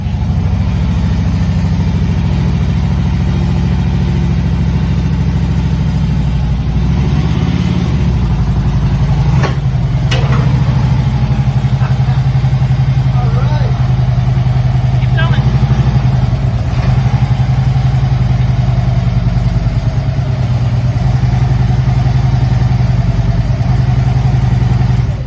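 A Harley-Davidson Road King motorcycle engine idles and runs steadily at close range throughout while the bike is moved onto a motorcycle dolly, a low continuous rumble with slight rises in revs and a few clunks partway through.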